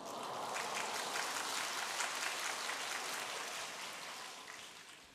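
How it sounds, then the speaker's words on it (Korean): A church congregation breaks into applause during a Sunday sermon, a dense, hissing wash of clapping that holds steady for a few seconds and then slowly fades. It sounds soft and somewhat distant. "박수를 왜 쳐요?"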